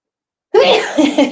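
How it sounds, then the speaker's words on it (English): After a moment of silence, a single close, abrupt sneeze erupts, followed by a couple of short breathy vocal sounds. "I'm going to sneeze."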